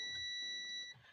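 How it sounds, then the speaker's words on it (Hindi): A multimeter set to continuity gives a steady, fairly loud, high electronic beep for just under a second before cutting off, while an AC/DC fan circuit is tested for shorts. "ये देखें ये मीटर की बीप आपको सुनाई दे रही है।"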